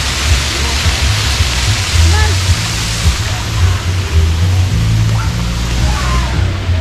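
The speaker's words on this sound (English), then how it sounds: "for the little ones, they added a splash pad" Splash pad water spraying at Coco Cay, the Royal Caribbean island stop, gives a loud, steady rush of spray that fills the whole stretch, with faint voices and low rumbles underneath.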